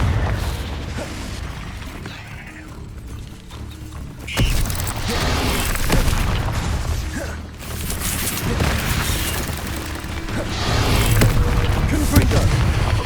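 Confringo spell explosions in Hogwarts Legacy, heavy booms and rumbling blasts layered with mechanical creaks and crackle, loud and continuous with sharp hits near the middle, a voice talking underneath.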